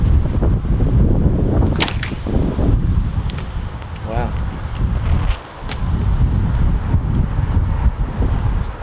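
Gusty wind buffets the microphone while a few sharp twangs and thwacks ring out as arrows are released from a 2018 PSE Xpedite compound bow outdoors.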